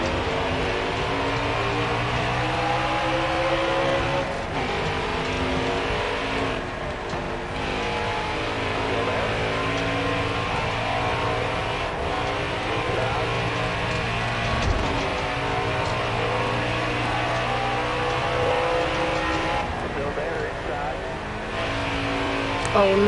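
Racing truck engines in the NASCAR Heat 4 video game drone and rev continuously at Dover, with a layered, sustained roar of several motors and occasional shifts in pitch, under intermittent talk.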